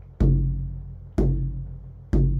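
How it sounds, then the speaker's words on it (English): A hand drum plays only the deep doom strokes of the Zaar rhythm: three heavy, resonant low hits about a second apart, each ringing out and fading before the next, with no other sound. "So if I only played the dooms in this rhythm,"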